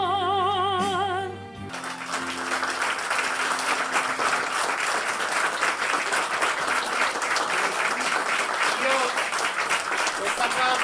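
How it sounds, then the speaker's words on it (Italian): A theatre audience at a variety show applauds after a song, starting just as the last sung note ends; steady, dense, loud clapping fills the room without a break. "Questo applauso"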